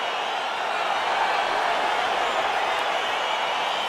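A UFC arena crowd roars continuously as a fight gets underway, producing a dense, steady wash of cheering and noise with no clear breaks.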